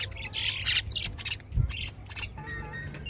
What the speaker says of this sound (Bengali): এই যে শালিক পাখিটা আপনারা দেখতে পাচ্ছেন এটা বাচ্চা থেকে আমার পোষা শালিক পাখি